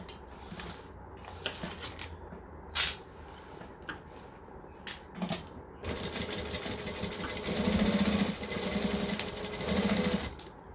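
A sewing machine stitches in short bursts, then runs steadily for several seconds with a fast mechanical whir, close by.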